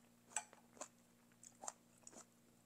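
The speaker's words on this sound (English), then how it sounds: "You hear that crunch?" Close, crisp crunches come from chewing onion with Vietnamese beef noodle soup, sounding as several distinct bites spaced irregularly over a low steady hum.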